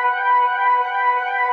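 Reversed sample pitched up 12 semitones, slowed to half speed, and treated with distortion, compression and chorus, heard as a steady, siren-like tonal drone with slight wavering, loud and alone for under two seconds.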